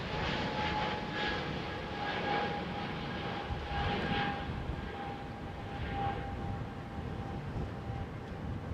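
A JetBlue airliner arriving at London Heathrow, its steady engine roar continuous and fairly distant, with a faint whine holding underneath and no voices.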